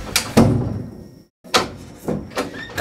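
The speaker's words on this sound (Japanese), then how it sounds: "クロージングザドア" A door swings shut indoors with a couple of sharp knocks and a solid thud, then brief silence, followed by more clunks and rattles of the door and latch close by.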